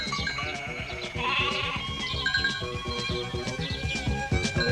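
Cartoon sheep bleating in a quick overlapping series of wavering, nasal cries, several animals calling close by and fairly loud, with no talk.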